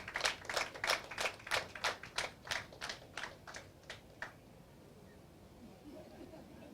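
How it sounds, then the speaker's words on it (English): Clapping at an award ceremony during annual day celebrations, a dozen or so sharp, evenly spaced claps from a small group that thin out and stop after about four seconds, leaving quiet room tone. "Please give her a big round of applause."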